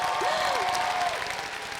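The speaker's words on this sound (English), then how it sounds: "Give yourself a big applause." Faint, steady wash of applause from a large crowd at a Utah Valley University freshman convocation, with a brief whistle rising over it before the sound slowly tapers.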